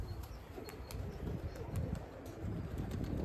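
Pigeons in a loft during breeding season, with soft low cooing and bursts of wing flapping over a steady, fairly close rustle, no talk.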